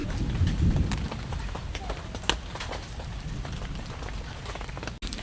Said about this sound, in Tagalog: Pero ano lang ngayon, ambon lang. Hindi man siya yung bagyo na ulan.